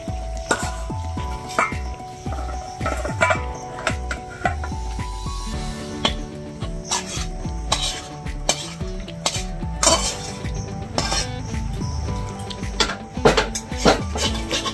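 Cooked chicken being lifted out of a kadai in a home kitchen, with repeated metal clanks and scrapes of spoon against pan in an irregular rhythm, close and fairly loud.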